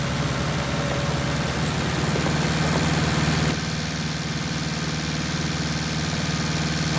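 A Massey Ferguson 277G tractor pulling a four-furrow Alpler plough through unploughed ground under heavy load, its engine a loud, steady knocking drone close by, dipping slightly in tone halfway through. Nobody speaks.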